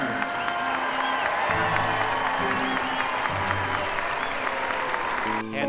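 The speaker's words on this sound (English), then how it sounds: "Spartan fans, please give another big round of applause for all of your Spartan support staff seniors." Sustained crowd applause filling a Michigan State women's basketball arena, steady clapping with scattered cheers, while an announcer's voice and arena music sound over it.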